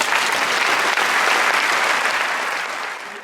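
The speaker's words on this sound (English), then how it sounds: "let's give them all a round of applause" An audience at a film festival opening night bursts into dense, sustained applause that holds steady and loud for a few seconds and then begins to taper, with no speech over it.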